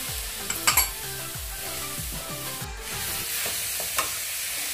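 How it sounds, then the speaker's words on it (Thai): Pork belly and Indian trumpet tree pods stir-fried in a pan, with a steady sizzle and repeated scraping, clattering strokes of a utensil against the metal pan in an irregular rhythm, loud and close. "จะต้องคั่วให้ได้ที่นะคะ"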